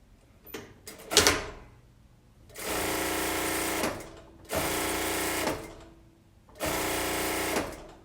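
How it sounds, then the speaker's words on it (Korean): An industrial sewing machine stitches the sleeve seam of a tailored jacket in three steady runs of about a second each, close and clear, after a few clunks of handling the fabric. "소매 통 라인을 또 박습니다."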